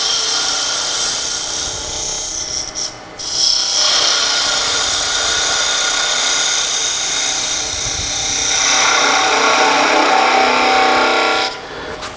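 Wood lathe with a small gouge cutting a wooden toy top, a steady high whirring and scraping of the tool against spinning wood, loud and continuous with brief dips as the cut eases and resumes.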